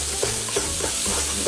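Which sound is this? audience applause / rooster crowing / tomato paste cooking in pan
tomato paste cooking in pan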